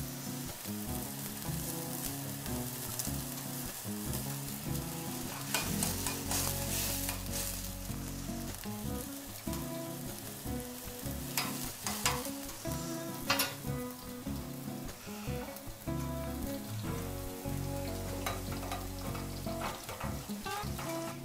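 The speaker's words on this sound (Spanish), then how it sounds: "Le echamos una cucharada a los camarones de crema de leche." Shrimp with a spoonful of cream sizzle and fry steadily in a hot pan, a dense, continuous crackle with faint stirring, no voices.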